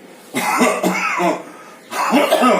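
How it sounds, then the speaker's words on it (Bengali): Repeated coughing fits from someone who has felt unwell since the night before, three harsh bursts with short pauses between them, close and fairly loud, with no talking. "কাশি হচ্ছে।"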